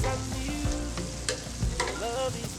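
Puff-puff dough balls fry in hot oil over turned-up heat, giving a steady, close sizzle that runs through the whole moment beneath tonal background music.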